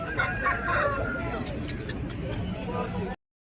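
Roosters crow and cluck amid a busy, crowded background at the Nallapadu rooster market, with people talking throughout and a few sharp higher calls in the second half.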